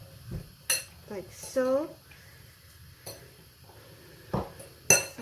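Carrots and other vegetables stirred in a bowl with a metal utensil, scattered clinks and scrapes against the bowl at irregular intervals while a person talks briefly.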